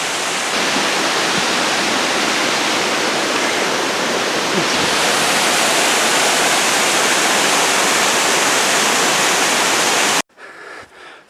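Ramona Falls on a snowy Mt. Hood trail pours as a constant, loud broadband roar of falling water, unbroken for about ten seconds before cutting abruptly to quieter ambience.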